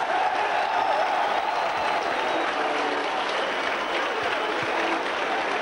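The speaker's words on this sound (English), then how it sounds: "Well, you can hear the Bradford fans cheering," Rugby league crowd at a Bradford versus Warrington match roaring and applauding after a try, a steady, distant wall of stadium cheering and clapping that holds throughout.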